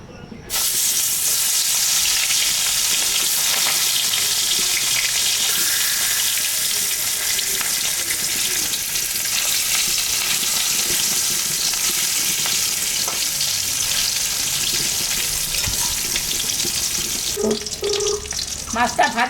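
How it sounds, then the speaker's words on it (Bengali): Bata and magur fish, salted and coated in turmeric, sizzle steadily in hot oil in a kadai, with a loud continuous frying hiss that runs unbroken with little pause. "মাছটা ভাজা হয়ে গেছে"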